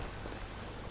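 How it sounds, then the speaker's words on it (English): Steady rain falling in the video game Genshin Impact, a dense, even hiss with no gaps across a single brief second, close and moderately loud with no voices over it. "It's raining."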